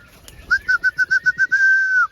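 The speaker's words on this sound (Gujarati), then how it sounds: "આ કબૂતર છે." A pigeon gives a close, clear run of about eight short, evenly spaced coos that end in one longer drawn-out note, with quiet background and no talking.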